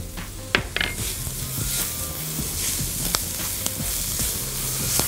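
Garlic sizzles steadily in a pan with basmati rice and turmeric, a close, continuous hiss of frying broken by sharp clinks and scrapes of a utensil stirring against the pan.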